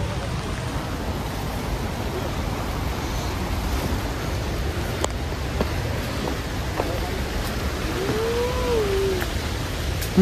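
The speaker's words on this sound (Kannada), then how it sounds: "ಮಳೆ ಬೇರೆ ಜೋರಾಯ್ತು" Heavy rain falls outdoors by a lake and waterfall area, a steady loud broadband wash throughout with a brief rising whistle-like tone near the end and no clear talk.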